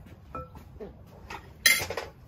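Salad sauce being mixed in a bowl with fresh edible flowers: soft utensil scrapes, then a brief louder burst of clinking and clattering against the bowl near the end, close and without speech.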